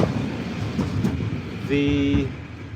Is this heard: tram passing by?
yes